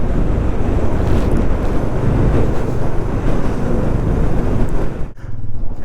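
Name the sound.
strong wind in Ladakh mountains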